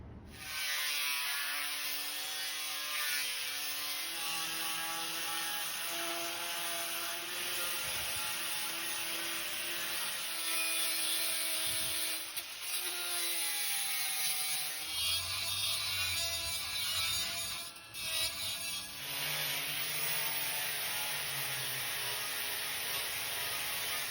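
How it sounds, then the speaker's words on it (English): Angle grinder working over stacked steel pieces to clean off mill scale, a loud continuous high whine with shifting pitch and grinding rasp throughout, no speech. "take the angle grinder to them and make them all"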